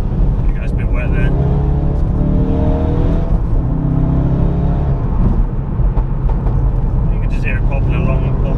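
A 400 bhp Ford Focus RS MK3 revs hard through the gears on a wet road, its exhaust crackling and popping under a loud, continuous engine roar recorded up close, with a voice talking over it.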